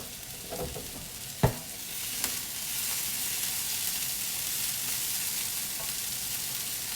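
Onions and celery cook in a pan with a steady, soft sizzle and a couple of brief clinks at the start, with no talking.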